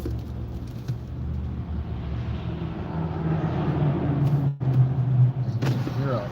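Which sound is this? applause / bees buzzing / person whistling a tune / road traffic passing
road traffic passing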